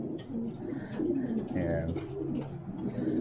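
Pigeons coo repeatedly in a loft, soft low throaty calls layered and continuous, with a few higher chirps from other birds, no speech.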